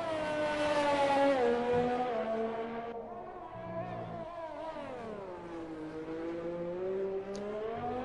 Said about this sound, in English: Tristan's currently on a lap in the McLaren.